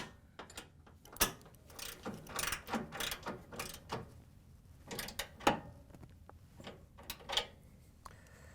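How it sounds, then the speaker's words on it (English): Wrench and socket tightening a nut on a Whirlpool/KitchenAid/Maytag washer shock absorber kit, 16mm wrench and 17mm socket, giving irregular ratcheting clicks and metallic clinks throughout, fairly close with no talk. "we can reach in with our 16mm wrench and 17mm socket and tighten it down"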